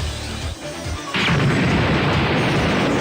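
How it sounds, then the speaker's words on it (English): Partway through, an explosion erupts in Budokai Tenkaichi 2 amid a city rampage by androids, a loud booming burst that swells into a sustained roaring rumble after a quieter lead-in. "Suddenly, an explosion rang out from the heart of the city."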